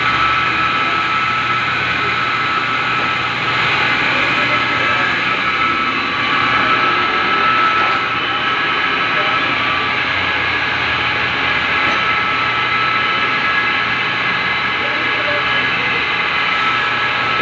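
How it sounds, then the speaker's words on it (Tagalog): An engine crankshaft is ground in a machine shop, a loud, steady grinding whine running continuously with a constant mechanical drone. "Ito yung pag-grind ng sikunyal"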